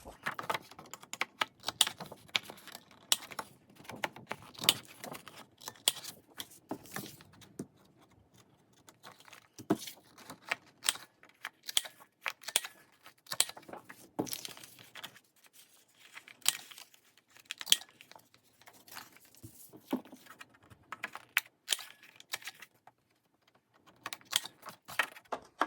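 Paper edges being rounded for a junk journal with a corner punch or scissors, giving a long run of dry, crisp clicks and snips in uneven bursts, close and fairly quiet, with short pauses and no talking.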